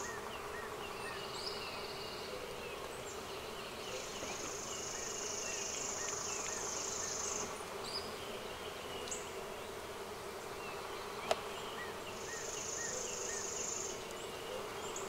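Honey bees drone steadily around an opened Flow Hive during a hive split, a continuous close insect buzz with higher whining passes from bees flying near, no voices.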